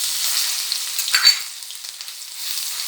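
Ginger, green chili and garlic paste frying in hot oil, a loud steady sizzle with a brief louder hiss burst as the paste hits and is stirred, no voices.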